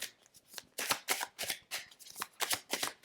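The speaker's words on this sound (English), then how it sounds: "Let's get a couple of tarot cards." Tarot cards being shuffled by hand in a quick, crisp series of riffling bursts, close and fairly soft, with no talking.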